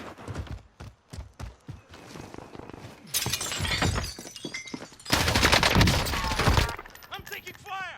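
Rapid gunfire from an M4A1 rifle in Call of Duty Warzone crackles in dense bursts, mixed with other loud game effects and impacts, while a player talks over the action.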